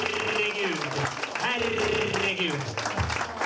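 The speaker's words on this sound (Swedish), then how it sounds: "applåder till samtliga inblandade av Stockholm Comedy Contest" Audience applause at the Stockholm Comedy Contest 2016, steady clapping from a room under a speaking voice, with a brief spoken exclamation.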